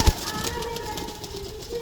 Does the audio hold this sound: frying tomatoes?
no